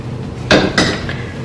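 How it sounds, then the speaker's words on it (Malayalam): A lid being set and closed on a hollowed pineapple filled with spiced pineapple rice, two quick clattering knocks in close succession, loud and near, with no talking. "ഈ അടപ്പ് അത് വെച്ചിട്ട് നമ്മളിതിങ്ങനെ അടച്ചു കൊടുക്കും"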